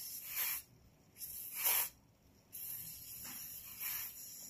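Short hissing bursts from a handheld spray can sprayed onto skin, several separate sprays with quiet gaps between them, close and fairly faint.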